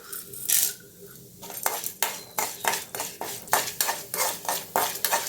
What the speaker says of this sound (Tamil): இப்போ உளுந்து கொஞ்சம் வறுபட்டதும் கடலைப்பருப்பு சேர்த்துக்கலாம்